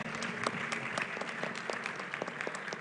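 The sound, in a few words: audience applause for the ladies on the panel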